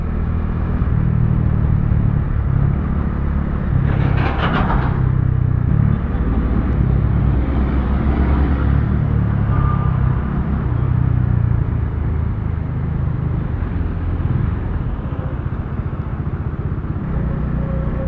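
Road traffic rumbles around a Dominar 400 motorcycle on a morning ride, with loud, continuous engine and wind noise throughout and a brief passing vehicle swell.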